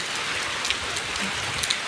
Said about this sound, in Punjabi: ਪੂਰਾ ਬਾਰਸ਼ ਹੈ ਪੂਰੀ ਜ਼ੋਰ ਦਾ ਇਸ ਟਾਈਮ ਸਾਡੇ ਪੈ ਰਹੀ ਹੈ